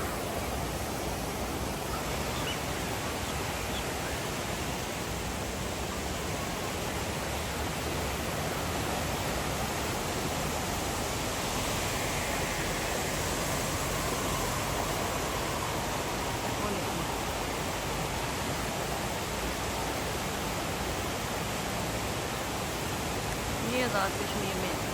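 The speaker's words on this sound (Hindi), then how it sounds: "पानी का शोर सुने।" Waterfall on the Neelum River in Azad Kashmir roars steadily, a loud broadband rush of fast-flowing water that holds constant throughout with no pauses.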